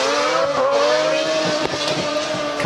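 Red Bull Mazda RX7 drift car at Goodwood roaring close past under heavy throttle, a loud sustained high-revving engine note with tire squeal, no talking.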